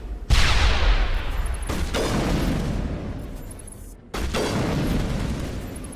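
Grenade explosions in the Mass Effect video game, two loud close blasts each followed by long rumbling decay, the second arriving about four seconds after the first.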